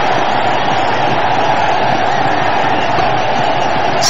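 Cricket crowd at a Bangladesh versus Sri Lanka one-day international in 2006 roars steadily after a boundary, a dense, continuous wash of distant cheering and noise with no break across the stretch.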